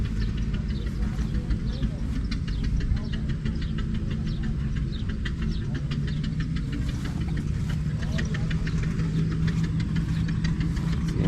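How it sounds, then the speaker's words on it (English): Massey Harris 55 diesel tractor engine running at a threshing show, a steady low rumbling idle with a faint knocking rhythm throughout, fairly close. "Here's a Massey Harris 55 diesel. That is a massive engine in there."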